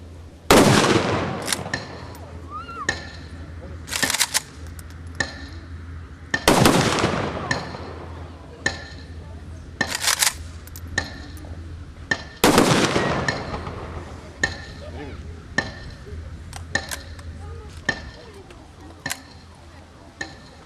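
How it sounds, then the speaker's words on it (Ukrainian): A series of sharp, loud gunshots fired into the sky as a memorial salute rings out at intervals, some in quick volleys, with echoing decay and quiet murmuring between the blasts outdoors. "Пам'ять загиблих вшанували хвилиною мовчання і пострілами в небо"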